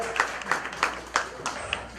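A small live audience at a comedy mind-reading show gives a short, sparse round of clapping, individual claps audible in an uneven rhythm at moderate distance.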